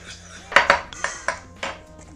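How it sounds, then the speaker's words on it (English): Spoon stirring cornstarch into pork stew inside an Instant Pot's metal inner pot, a series of five or six clinking scrapes and taps at a moderate distance, with no talking. "Just gonna stir it up a little bit so that we don't get any clumping going on with the cornstarch."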